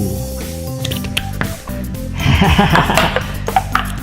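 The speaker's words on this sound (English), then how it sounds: "What noise does the slime make?" Wet squelching and squishing of slime, several moist squelches close to the mic, with other handling noises and clatter earlier.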